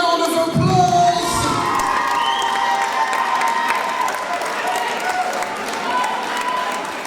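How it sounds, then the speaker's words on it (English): A boxing crowd cheers and applauds two fighters after their bout, a steady roar of shouts, whistles and clapping filling the hall, with an announcer's amplified voice heard over it. "Please give them a round of applause."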